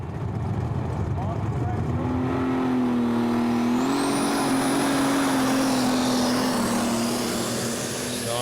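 Terminator, an older-shaped International pulling tractor at the 2015 European Tractor Pulling Championship in Brande, Denmark, roars loud and sustained during a pull, its pitch climbing then holding, with commentary over it.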